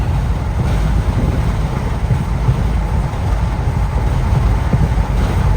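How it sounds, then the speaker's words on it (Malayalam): Strong wind buffets the microphone at an open window of a moving Okha to Bhavnagar Express train near Dwarka, Gujarat, a loud, steady, unbroken low roar filling the whole stretch with no talk. "നല്ല കാറ്റുണ്ട്"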